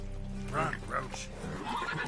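Roach, a horse in The Witcher 3 video game, gives a neigh amid game music and ambient sound, with a voice talking over it.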